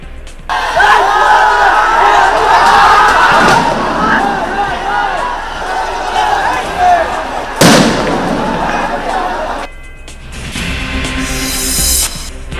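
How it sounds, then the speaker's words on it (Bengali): Police sound grenades go off during clashes with students on a campus: one sharp, loud blast cuts through a dense roar of crowd noise and shouting, which later drops back to scattered voices. "পুলিশের সাউন্ড গ্রেনেড নিক্ষেপ"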